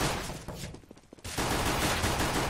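Dense, loud pistol fire from a Glock and dual pistols in a competitive shooter game, rapid overlapping shots in a steady fusillade with a brief lull in the middle before the firing picks up again.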